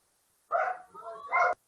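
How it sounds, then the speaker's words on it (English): A dog in the background of a home workspace gives two quick, fairly close barks in a row, with a short dip between them and silence on either side. "the dog barking in the background"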